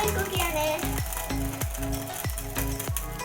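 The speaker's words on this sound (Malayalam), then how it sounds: "ഞാൻ ചൂടായ എണ്ണയിലേക്ക് നാക്ക ചതിച്ച് വെച്ച് ജീവിതമിടുകയാണ്" Tamarind frying in hot coconut oil in a pan gives a steady sizzle that runs under a regular, repeating tonal beat.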